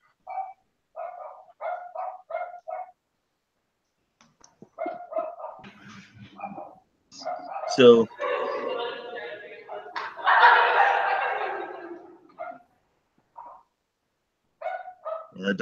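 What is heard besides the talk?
dog barking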